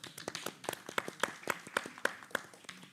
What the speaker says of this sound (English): give a big, big round of applause